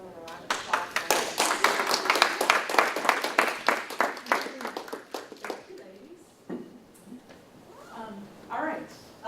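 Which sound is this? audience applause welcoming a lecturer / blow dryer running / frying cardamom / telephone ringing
audience applause welcoming a lecturer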